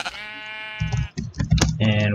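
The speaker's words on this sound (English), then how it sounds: "that's a sheep that just walked across" A Minecraft sheep gives one clear, wavering bleat up close, followed by keyboard clatter and someone talking.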